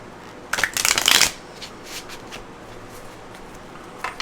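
Tarot cards are shuffled close up in one quick riffling burst of about a second, followed by a few faint card taps and quiet handling sounds.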